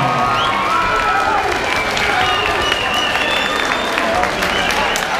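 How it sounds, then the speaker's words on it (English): Crowd at an amateur boxing or fight event applauds and cheers after a unanimous decision, a loud, sustained roar of clapping and shouts with scattered higher yells over the top. "Ladies and gentlemen, please keep the applause going."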